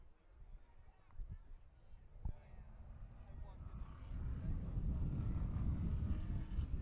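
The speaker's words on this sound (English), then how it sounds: "the wind is slightly against him" Wind buffeting the microphone at an outdoor high school rugby tournament match, a low rumbling gust that builds to a steady roar in the second half while commentators talk over it.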